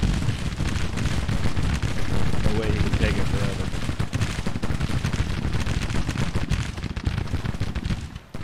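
Musket fire crackles continuously through a Civil War video game battle, with dense, overlapping volleys and booming shots close and loud throughout, and a voice briefly audible underneath.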